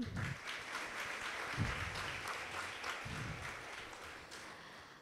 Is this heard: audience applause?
yes